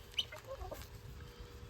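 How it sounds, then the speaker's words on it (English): Chickens and guinea fowl on a farm give a few faint, soft clucks and chirps in a quiet setting, with no voices. "There's our pile of chickens."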